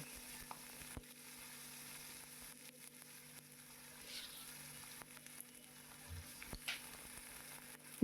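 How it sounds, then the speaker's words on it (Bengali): Chopped bottle gourd fries in a pan with black mustard seeds and green chillies: a soft, continuous sizzle broken by occasional scraping stir knocks, fairly quiet throughout. "লাউ দিয়ে ভালো করে নেড়ে চেড়ে ভেজে নিতে হবে"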